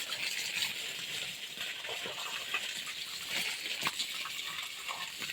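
Water poured and splashing during a bath at an ancestral family home, a faint continuous hiss of gushing and trickling liquid with small irregular splashes, no voices.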